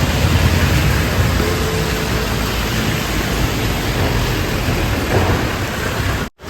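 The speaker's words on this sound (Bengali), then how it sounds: "প্রচুর ধারে বৃষ্টি হচ্ছে" Heavy rain pours in a dense, continuous roar with low rumbling thunder mixed in, in Darjeeling during landslides, steady and loud until it cuts off abruptly at the end.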